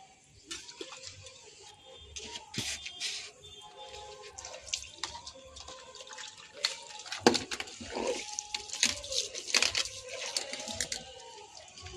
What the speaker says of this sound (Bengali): এগুলো এখন কাচবো, এটা কেচে দিয়ে তারপরে বাসন মাজবো।